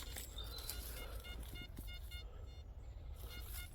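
A metal detector emits a string of short, high electronic beeps in a steady pulsing rhythm over a low background hum, with no talking.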